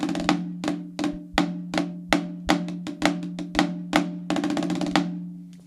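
Opening measures of the Rudimental Rondo played slowly on a snare drum, a close, crisp series of evenly spaced strokes with occasional quicker grace-note flams and buzzes, snare wires ringing between hits.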